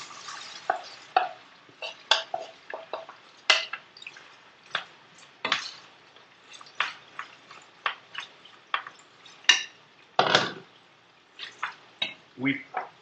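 Potatoes and onions hit hot oil in a skillet for a Spanish tortilla, giving scattered close crackles, pops and scraping stirs at an irregular pace with no steady background sizzle.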